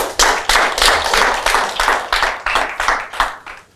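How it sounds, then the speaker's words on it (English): Audience clapping at a company seminar on marketing digital shares, a series of distinct, fairly loud rhythmic claps about every third of a second, steady for nearly four seconds before tapering off. "clap for him"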